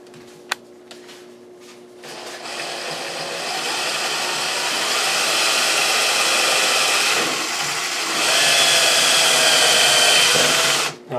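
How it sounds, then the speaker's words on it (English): A power drill bores partway into a base kitchen cabinet during installation, a steady close whirring that runs nearly continuously after a short quiet start and rises slightly near the end before cutting off. "Remember, you only want to drill partially through."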